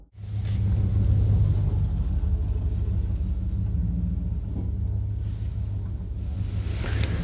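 A truck's deep, steady rumble holds throughout as it drives away in a forest, loud and continuous with little change in level.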